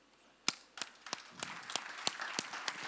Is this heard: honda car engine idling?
no